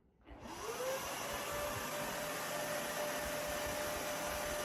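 Shark StainStriker Carpet Expert upright carpet cleaner switching on, its motor spinning up quickly from a click into a steady, close, even whine and rushing airflow that holds constant, with no talking.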